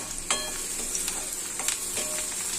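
Onions and green chilies fry in a little oil for poha in a home kitchen, a steady close sizzle with a few clinks and stirring scrapes of a spoon against the pan.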